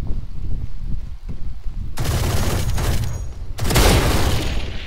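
Gunfire in Valorant shot through a wall, heard as dense bursts of loud shots in two bands, rough rumbling fire at first, then two sharp, bright volleys that stand alone with no talk.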